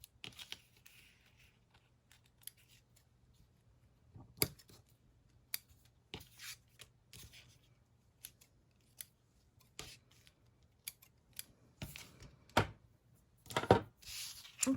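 Scissors snip through paper while trimming elongated craft tags: quiet, close, irregular cuts, some isolated and some in quick clusters, against near silence.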